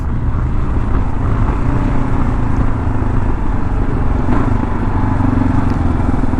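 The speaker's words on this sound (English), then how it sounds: "Otherwise, for a stock bike, it certainly sounds decent." A stock 2022 Kawasaki KLR 650 engine drones steadily during riding, heard from the rider's position and mixed with heavy wind rush over the windscreen.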